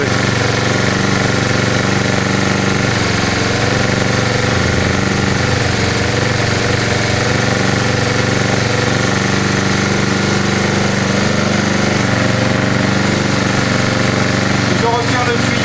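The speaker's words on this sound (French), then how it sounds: "le moteur tourne plus vite et est en train de prendre le relais à l'essence" A gasoline engine fitted with a homemade HHO dry cell runs steadily at higher speed, giving a loud, continuous droning and clattering hum with no break in level.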